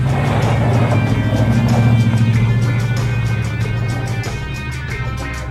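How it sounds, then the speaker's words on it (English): Car peeling out during a music video shoot, a loud, close engine roaring steadily for several seconds and easing slightly toward the end. "Definitely peel out this time for a good 3 or 4 seconds."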